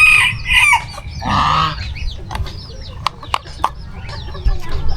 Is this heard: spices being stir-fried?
no